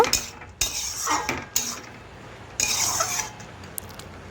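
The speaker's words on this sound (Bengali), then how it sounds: "এটাও ভালোভাবে নাড়াচাড়া করে মিশিয়ে নেব।" A spoon scrapes and clinks against a pan while stirring a vegetarian pumpkin curry topped with fried spice powder, coming in a few loud close bursts separated by quieter pauses.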